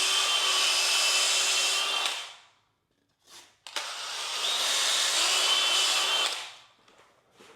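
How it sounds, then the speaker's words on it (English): A reamer whirs as it bores out EVA grip handles for a custom fishing rod, in two loud sustained bursts separated by a brief pause. "Now I'm gonna ream out my handles."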